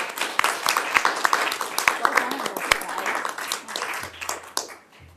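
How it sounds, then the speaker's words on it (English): An audience applauds election candidates at a League of Women Voters forum, a burst of scattered claps that thins out and fades, with voices talking over it. "I would like to invite the audience to share their thanks by a round of applause"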